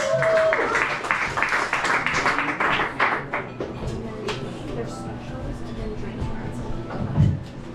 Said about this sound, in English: Clap it up for yourselves